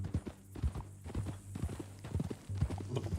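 Horse hooves clip-clop in Red Dead Redemption 2, a steady walking rhythm of close, fairly clear hoof strikes over a low background hum, with faint speech in places.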